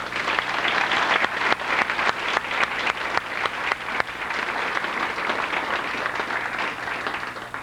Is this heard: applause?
yes